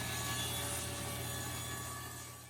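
Steady power-tool drone as the sides of an ombre end grain wooden cutting board are trimmed, a continuous loud machine hum that fades slightly toward the end.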